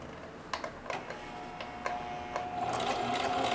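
A sewing machine stitches denim in short runs, with a soft steady whir punctuated by distinct ticking clicks before settling into continuous stitching.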